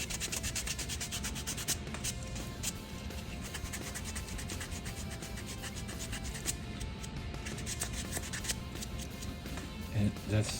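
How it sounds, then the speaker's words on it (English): Steady scratchy rubbing of sandpaper on a painted plastic slot car model, continuous back-and-forth rasping at close range with no talking. "So you just go ahead and just keep sanding like this all over the"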